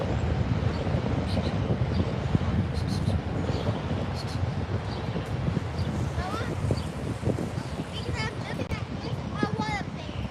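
A Norse jet airliner takes off at LAX, a broad distant jet roar spreading under heavy wind buffeting on the microphone, with people talking and a few bird chirps near the end.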